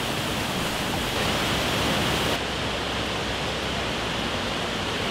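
Pothole Falls, a waterfall on a sandstone creek in a Southwest Washington evergreen forest, roars in a steady, dense rush with no other sounds.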